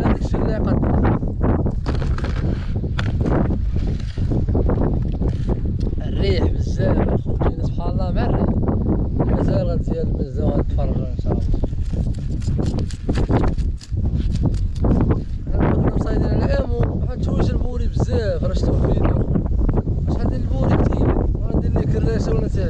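Strong desert wind buffets the microphone on a fishing trip, a loud continuous roar and rush that fills the whole stretch, with someone talking steadily over it.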